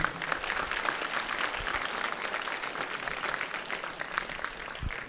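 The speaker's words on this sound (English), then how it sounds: "Big applause to the Flower Committee." A temple audience at the Sri Adhi Parashakthi Amman temple breaks into dense, steady applause that holds at an even level throughout, with no talking over it.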